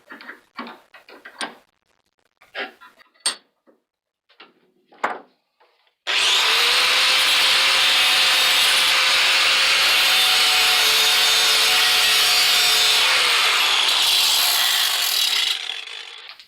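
A grinding wheel rounding the corners of a homemade metal rifle tuner: first a few short, scattered scraping passes, then a long, continuous, loud high-pitched grind with a whining tone that holds for about ten seconds before stopping.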